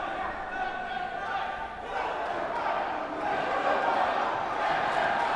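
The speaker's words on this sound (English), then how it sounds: "The crowd totally getting into it." A large crowd cheers and shouts at a live pro wrestling event during a brawl, a steady dense roar of noise with no clear peaks throughout.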